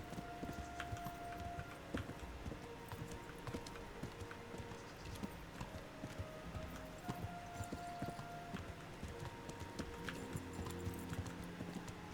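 Hooves of Roach, the horse in a video game, clip-clop steadily and faintly under a constant ambient wash with no pauses, and there is no talking.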